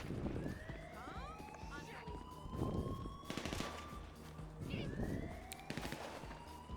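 Bursts of rapid gunfire in Grand Theft Auto V Enhanced crackle in short volleys against a whistling, rising synthetic tone, with people talking over the shots.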